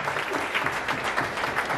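An audience at a CFF Kiambu church gathering claps for Bishop Wanderi, a brief burst of dense, steady applause from a crowd close by.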